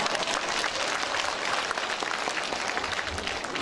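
Members of a regional housing association at its general meeting in Ansan clap together, a loud, dense and continuous roar of hands filling the room for a few seconds, with no speech on top.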